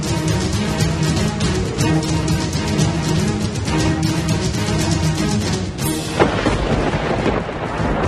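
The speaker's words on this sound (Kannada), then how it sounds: "ಚಿಕ್ಕಮಗಳೂರಿನಲ್ಲಿ ಮಳೆ ಅಬ್ಬರಿಸಿ ಬೊಬ್ಬರಿತಾ ಇದೆ" Heavy monsoon rain pours steadily over Chikmagalur in Karnataka, a dense continuous roar, with a sharp thunderclap crashing in near the six-second mark and rumbling off afterward.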